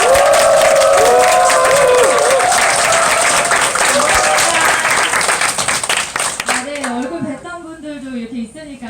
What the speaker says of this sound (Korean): 그러면 최성원 사장님을 큰 박수로 모시겠습니다.